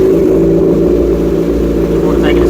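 A 2011 Kawasaki Ninja 636 sport motorcycle starting up, with a loud, steady mid-pitched engine drone close by.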